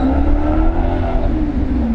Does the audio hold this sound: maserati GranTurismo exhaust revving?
yes